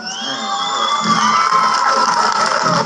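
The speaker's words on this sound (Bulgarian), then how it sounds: "Аплодисменти." A large audience applauds and cheers with whoops and shouts at an award ceremony for a song and film contest show, loud and sustained throughout with no talking.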